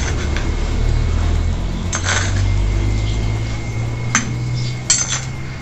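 A metal lid clinks onto a cooking pot of boiling pork trotters with onion and garlic, a few light metallic taps over a steady low simmering rumble, with no talk.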